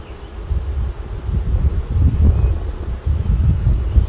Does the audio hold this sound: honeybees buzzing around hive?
yes